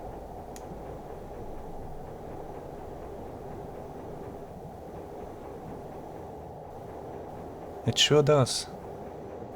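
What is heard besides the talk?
ship engine heard through submarine hydrophone, Silent Hunter 3 video game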